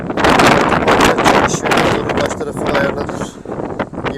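Strong gusty wind at a port buffets the microphone, a loud roaring rush that rises and falls throughout.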